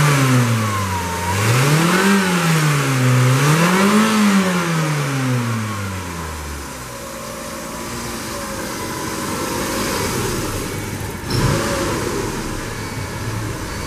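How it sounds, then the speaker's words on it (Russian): A Kia P80E engine for a 2000-2005 Rio, about 148,526 km, revs up and down twice in quick swells, then settles back to a steady, higher-pitched running hum, loud and close. "Работа двигателя на повышенных оборотах."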